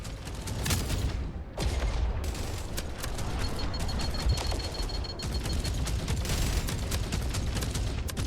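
Spaceship weapons firing in the space combat game Jump Space: a dense, continuous barrage of rapid loud shots and booms, close and relentless, with one brief gap, alone without talk.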